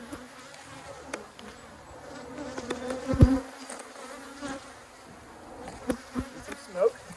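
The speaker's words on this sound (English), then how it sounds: "A massive frame of bees." Honey bees buzz on a hive frame in a close, continuous droning hum. Sharper buzzes rise above it as individual bees pass near, with occasional handling clicks.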